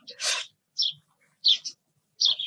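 Small birds, pet cage birds such as parrots, chirp in four short, bright bursts spread across a couple of seconds, close by and clear, with no talking over them.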